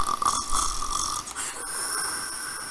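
A person imitates snoring with the voice, making a steady, rasping snore that runs close and fairly loud through the whole short stretch.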